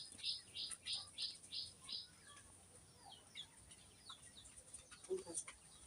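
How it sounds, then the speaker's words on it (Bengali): Newly hatching chicks inside an incubator give quiet, high-pitched peeps in a quick run at first, followed by scattered softer chirps and faint rustling. "এখন কিন্তু বাচ্চা কিন্তু ফোটা শুরু হয়ে গেছে"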